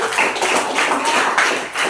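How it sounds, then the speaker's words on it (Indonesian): Steady, dense applause from a classroom of students clapping for a student group, even and continuous with no talk over it. "Beri tepuk tangan untuk kelompok."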